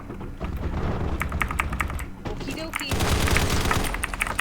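Rapid bursts of gunfire and blasts in the shooter game Combat Master, loud and dense, with a sharp louder burst of explosive noise near the end.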